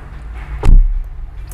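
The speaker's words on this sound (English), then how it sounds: "It's just the most solid door thud I've ever heard in my entire life" A single heavy, solid thud of a Mercedes-Benz W126 560 SEL car door shutting, deep and close, with a quiet hum before and after.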